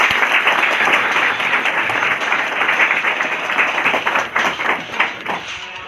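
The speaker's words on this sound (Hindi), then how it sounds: "सब लोग के लिए बहुत जोरदार तालियों से स्वागत करते हैं।" Sustained, loud audience applause from a crowd welcoming guests at a direct-selling meeting in Kusmi, Ambikapur, dense and continuous throughout with scattered sharper claps near the end.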